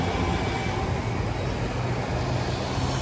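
A retro tram rumbles past on a street in Milan, a steady low mechanical roar blended with surrounding traffic noise.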